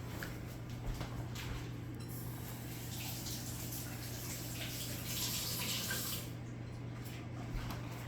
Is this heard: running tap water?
yes